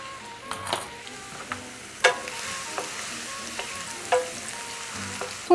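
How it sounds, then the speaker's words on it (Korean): Sliced scallions frying in Sichuan peppercorn oil for mapo tofu, giving a steady close sizzle broken by sharp crackles and pops throughout. "이 기름에 파를 좀 살짝 튀겨서 대파 향까지 입혀낼 거예요"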